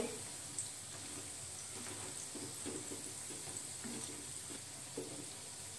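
Green moong dal pakodas frying in hot oil, a steady soft sizzle and bubbling with occasional louder spatters, close up and continuous.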